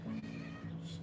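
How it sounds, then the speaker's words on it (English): A cat meows indoors, a single drawn-out, fairly low call lasting about a second, close by and moderately loud, with no talking over it. "Meow. Is that what you want to say?"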